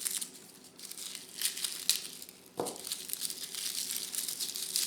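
Whole garlic heads being broken apart by hand into unpeeled cloves, papery skins crinkling and crackling in short bursts with one sharper snap partway through, close and fairly quiet, no talking.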